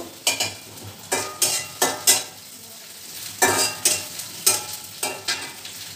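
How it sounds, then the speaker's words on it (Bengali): Onion, garlic and green chili frying in a pan, with about a dozen rhythmic scraping strokes of a spatula over a low sizzle, close and distinct. "পেঁয়াজটা ভেজে নিলাম একটু, মানে বেরেস্তা হয়নি, আর রসুন কাঁচামরিচ দিলাম"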